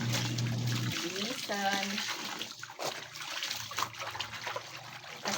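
Water is poured and splashes while children are bathed at home, a continuous running, trickling wash with someone talking over it nearby.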